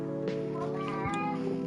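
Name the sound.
cat meowing in the video game Coffee Talk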